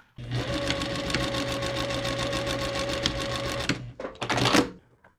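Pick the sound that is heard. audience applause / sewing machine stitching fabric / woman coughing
sewing machine stitching fabric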